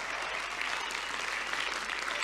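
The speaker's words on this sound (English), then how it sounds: "A round of applause for Eric" Audience applause fills a phone launch event hall for Razer, a steady dense wash of clapping from a large crowd lasting the whole moment, loud and sustained without a break.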